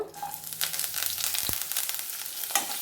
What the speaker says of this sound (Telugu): తర్వాత వచ్చి ఒక ఎండుమిరపకాయ, కరివేపాకు మొత్తం వేసేద్దాము.